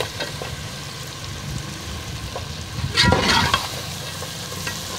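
Chicken pieces fry in a roasted masala and are stirred, a loud, continuous close sizzle with a burst of scraping and spatter partway through, no voices.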